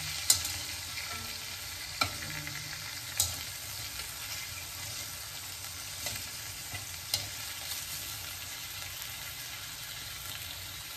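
Chicken pieces fry in a pan for a Filipino-style chicken curry, giving a steady, even sizzle that runs throughout with a few light clicks and taps, and no one speaks.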